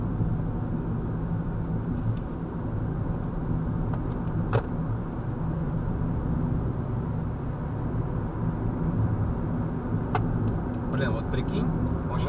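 A car drives along with a steady low engine and road rumble, constant and close from inside the cabin, with a few faint clicks.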